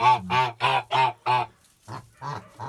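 A young Kholmogory goose honks five times in quick succession, close and loud, then pauses before a few softer honks.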